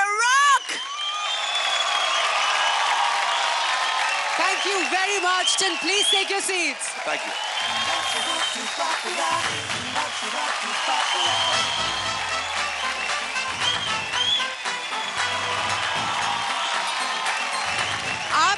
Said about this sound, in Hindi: तालियां बजती रहनी चाहिए रियली